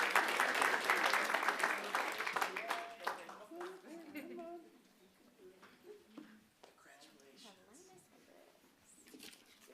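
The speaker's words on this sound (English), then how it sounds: "One more round of applause." Applause from an audience at a school board meeting for award winners, loud and dense at first, then thinning to scattered claps with voices talking over it.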